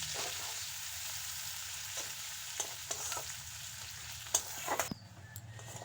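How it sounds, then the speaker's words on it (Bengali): Chopped onions frying in mustard oil make a steady, close sizzle, broken by a few light stirring clicks, before the sound drops off sharply near the end. "পেঁয়াজটা হালকা লাল করে ভেজে নিয়েছি।"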